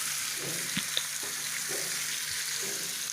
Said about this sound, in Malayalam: ആ ചിക്കൻ ഇതിലേക്ക് ഈ എണ്ണയിലേക്ക് ചേർത്ത് കൊടുക്കുക.